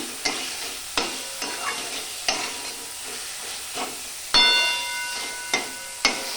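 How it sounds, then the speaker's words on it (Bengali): Chhena (cottage cheese) fries in a pan and is stirred at intervals, the gentle sizzle punctuated by sharp scraping strokes of a spoon against the metal, close up and without talk. "ছানাটা হালকা একটু ভাজা হবে"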